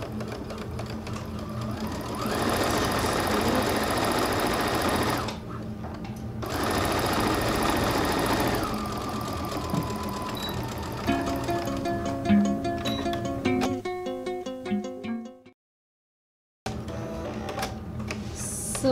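A sewing machine runs a plain seam on fabric, whirring steadily in loud bursts with short pauses and a brief silence near the end, no voices.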